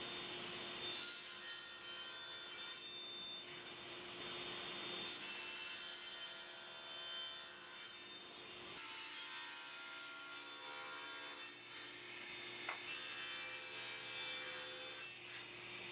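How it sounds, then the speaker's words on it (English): A table saw ripping pieces of red oak, a continuous high whining cut that swells and drops as each piece feeds through, with short gaps between passes and no talking. "we go to the table saw, we cut a couple more pieces"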